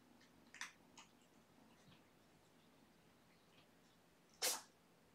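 A tiny kitten lets out a sharp, sudden sneeze near the end, preceded by a couple of faint soft sniffs and snorts in an otherwise quiet room.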